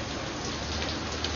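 Steady rain falls in New York, a dense, even hiss of drops hitting surfaces, close and continuous throughout with no voices.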